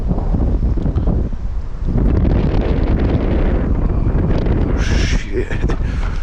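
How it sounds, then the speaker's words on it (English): Strong wind buffets a microphone outdoors, a loud, continuous roaring rumble that never lets up, with a faint bird call near the end and no talking. "the wind fucking hits hard"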